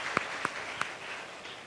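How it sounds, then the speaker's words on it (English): An audience applauds a team at a university math fair, faint and distant, with a few sharper claps standing out early before the sound thins. "You all give them a round of applause, please."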